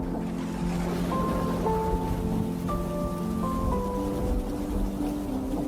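Steady heavy rain hisses continuously while soft sustained musical notes play over it; no distinct thunderclap stands out.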